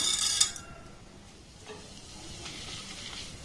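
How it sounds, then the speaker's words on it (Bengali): Masoor lentils dry-roast and get stirred in a pan: a brief clatter of the spoon against metal at the start, then a soft, steady sizzle with faint scraping moments, close and fairly quiet. "ডালটাকে একটু নাড়াচাড়া করে ভেজে নেব"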